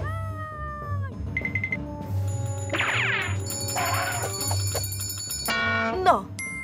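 Bright, high bell rings and tinkling chimes sound in an animated cartoon, coming in several separate bursts among cartoonish vocal sounds and background music.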